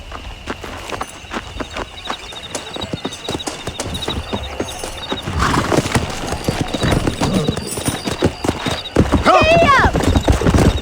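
Horse in a video game gallops with rapid clip-clop hoofbeats and lets out loud neighs and whinnies near the end, with people talking over the hooves throughout.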